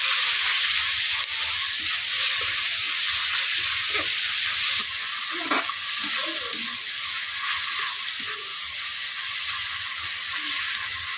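Tomato, ginger and garlic paste sizzling in a hot pan while cooking patal posto, a steady close frying hiss throughout with a few small stirring clinks and pops.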